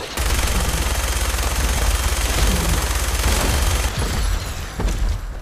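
Rapid, loud automatic gunfire from the game Fallout 4 blasts in a dense continuous burst, with heavy booming thumps underneath and a brief break before the firing resumes.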